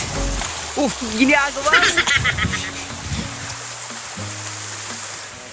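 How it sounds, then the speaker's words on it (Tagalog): Heavy rain hisses steadily on a mountain trail, a broad constant wash beneath people talking and breathing nearby. "Sobrang lakas ng ulan."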